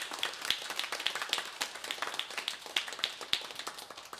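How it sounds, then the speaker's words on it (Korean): A church congregation applauds during a Sunday worship service, a soft, steady patter of many hands clapping at a distance, fairly quiet throughout. "우리 박수로 감사하겠습니다"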